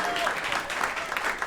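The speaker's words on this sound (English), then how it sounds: "Always a good round of applause for NYSERDA." An audience at a live clean-energy event applauds, a dense, steady wash of clapping filling the whole short stretch at close range.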